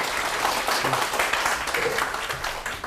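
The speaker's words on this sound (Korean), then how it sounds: "큰 박수로 다시 맞아주시죠" Audience applause welcoming a lecturer at a university talk on the Three Kingdoms, steady dense clapping throughout the short stretch with no voices over it.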